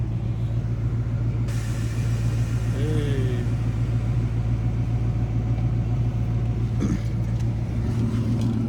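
Supercharged stock 2-valve V8 with a stock block and bottom end, boosted by a Vortech V3, idles with a steady deep rumble throughout, loud and close, while a voice briefly calls out over it.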